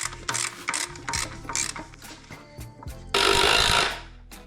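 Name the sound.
ratchet bolting engine mount to transmission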